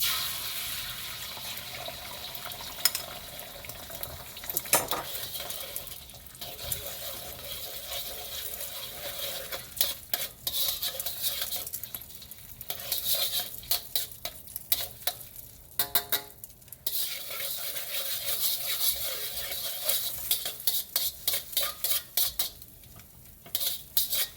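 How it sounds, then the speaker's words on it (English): Two eggs scramble in a hot oiled pan, a bright sizzle under busy scraping and clinking of a utensil against the pan, with bursts of rapid stirring strokes and short pauses, close up and without voices. "I am now going to scramble some eggs in the bottom of this pan"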